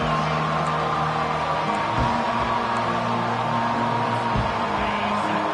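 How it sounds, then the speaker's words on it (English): Dense, steady roar of a large stadium crowd, a continuous wash of voices and noise with no breaks. "listen to this crowd noise. This stadium is vibrating."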